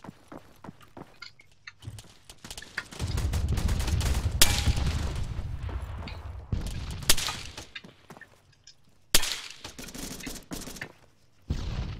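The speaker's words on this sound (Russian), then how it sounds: "Выстрелы, выстрелы." Rapid bursts of gunfire crackle through a dense, noisy mix, with sustained volleys and sharp loud cracks spread across the stretch.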